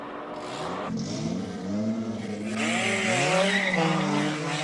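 Old-school Volvo 850 race car with a 2.5-liter engine revving hard at a Cape Town hillclimb start line, a loud close engine note rising and falling in rough bursts with sharp high-pitched whine, no talk over it.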